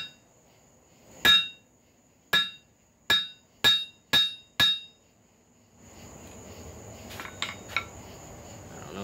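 Hammer striking copper and steel over the edge of an anvil, six sharp ringing metallic blows, the first lone and the rest in a quickening run, close and loud, followed by scraping shop noise and a few light clinks.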